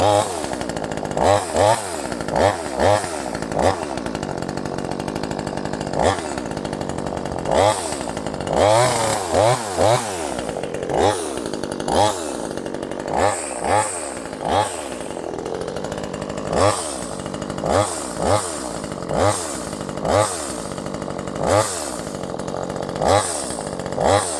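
A small IETO 12-inch 2500 chainsaw engine running after a start, revving in repeated sharp bursts that drop back to a rough idle between them, loud and close with no talk.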